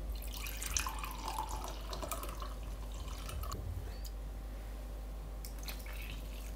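Hot water poured from a cup into a no-knead bread dough mix, a steady close trickle and splash over a low constant hum, with no talk.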